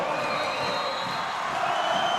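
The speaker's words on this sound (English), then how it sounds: "Listen to this crowd." A basketball crowd in a gym for a boys' high school game in Galesburg, a steady roar of cheering and voices that fills the room without a break.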